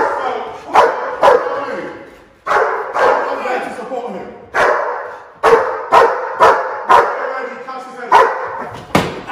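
A K9 guard dog barks repeatedly and forcefully nearby, a rapid series of loud, sharp barks with brief gaps between bursts.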